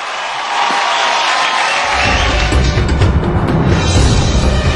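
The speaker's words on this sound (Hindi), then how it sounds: "जोरदार तालियां।" Loud studio audience applause and cheering swell in after a quiet start and hold steady, dense and close, during an Indian TV gossip segment.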